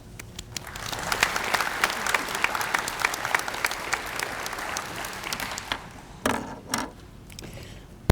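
Audience applause welcoming a speaker at an early college graduation ceremony, steady clapping from a large crowd that carries on for several seconds before thinning out into a few scattered claps.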